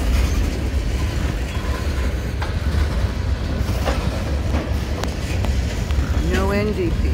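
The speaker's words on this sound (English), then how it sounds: "Beautiful train." A long CSX freight train with a mid-train distributed power locomotive rumbles past close by in Palmer, Massachusetts, with a steady roar and clacking wheels, and a brief squeal near the end.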